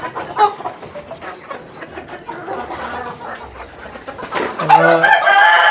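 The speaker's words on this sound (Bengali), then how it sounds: "খুব সুন্দর মুরগি যে একটা ডিম পারছে একটা ডিম" Hens cluck repeatedly in a poultry farm coop while a rooster crows loudly near the end, close and busy with overlapping calls; no voices are heard.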